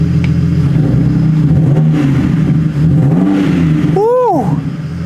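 A car engine catches and settles into a deep, grumbling idle inside a workshop, loud and close, with a brief rise in revs near the end and voices reacting over it.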